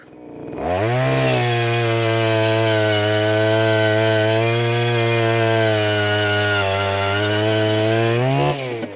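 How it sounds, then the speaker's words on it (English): A powered ice auger starts up and runs at a steady high-pitched whine for several seconds before winding down and stopping. "I'm going to drill 2 sets of 16 holes"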